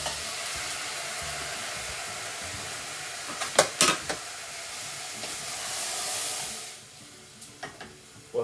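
Great northern beans stirred into onions in a pot produce a steady hissing sizzle with a cluster of scraping clatters midway, the sizzle swelling and then dropping off, followed by a few light taps.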